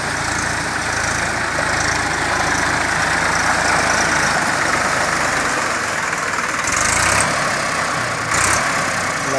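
A tractor with a rotavator attached behind it churns wet mud in a field, its engine a steady, loud, low chugging rumble throughout with no talking.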